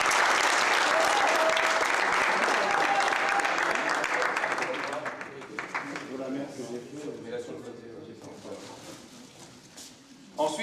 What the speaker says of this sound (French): On peut quand même l'applaudir.